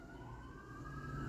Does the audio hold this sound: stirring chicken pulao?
no